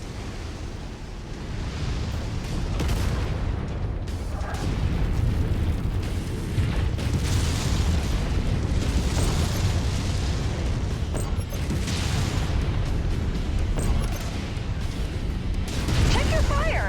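Missile explosions in Mechwarrior 5 roll on as a continuous heavy booming rumble with repeated blasts, loud and dense throughout, with radio-style voice callouts mixed in.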